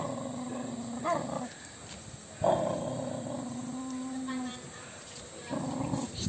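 A dog growls in low, drawn-out rumbles, three separate bursts with brief gaps between, close and moderately loud.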